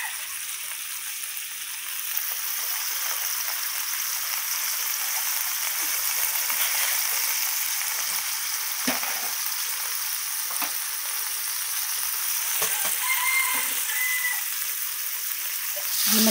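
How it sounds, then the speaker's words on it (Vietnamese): Pieces of vegetarian meat lightly frying in hot oil, a steady bright sizzle that runs continuously with occasional pops and stirring clinks. "Mình chỉ chiên sơ trên cho cái miếng thường của mình nó ráo lại thôi."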